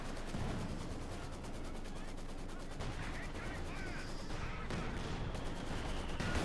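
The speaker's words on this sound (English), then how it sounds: "More shots fired there." Gunfire in the Company of Heroes 2 strategy game: continuous layered shots and cannon fire rumble densely through the whole stretch, with a commentator talking over the battle noise.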